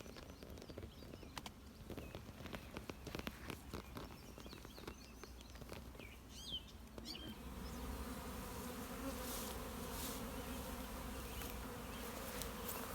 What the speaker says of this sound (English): these bees are making their way in